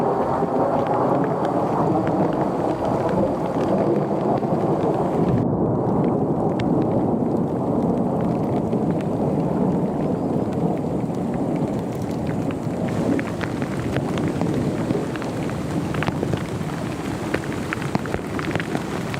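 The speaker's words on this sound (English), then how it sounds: "heavy rain and sharp lightning strikes surrounded her tent." Heavy rain pounding steadily against tent fabric with deep, rolling thunder rumbling underneath, a loud continuous storm that barely lets up.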